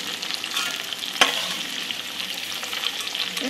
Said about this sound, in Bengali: মিনিট খানেক আমি পেঁয়াজ আর ক্যাপসিকামটা ভেজেছি